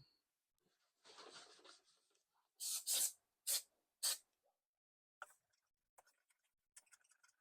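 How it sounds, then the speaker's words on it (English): Honda spray cleaner and polish sprayed onto a Toro Recycler lawn mower with a Briggs and Stratton engine, giving one longer hiss followed by three short, loud bursts and faint rustling wiping afterward. "I like this stuff, the Honda spray cleaner and polish"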